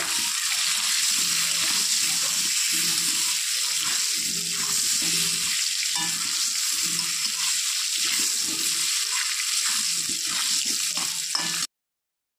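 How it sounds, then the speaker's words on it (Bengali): Potatoes frying in hot oil in a pan with salt and turmeric make a dense, even hiss that runs steadily and close, broken by soft stirring knocks, with no talk, then cuts to silence near the end. "সামান্য নুন আর হলুদ দিয়ে আলুটাকে একটু ভেজে নেব।"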